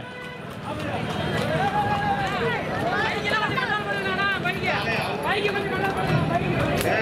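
Horses' hooves clip-clop rapidly during a horse race in Karur amid a noisy crowd, with chattering voices and shouting throughout.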